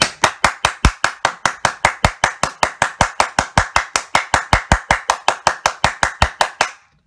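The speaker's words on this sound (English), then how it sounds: "we give a big round of applause for that warrior brother" A steady run of about thirty sharp, evenly spaced claps or knocks, loud and close, repeating like a slow rhythmic round of applause for nearly seven seconds before stopping.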